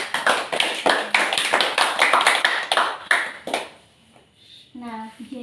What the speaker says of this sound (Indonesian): Beri aplaus dulu untuk semuanya.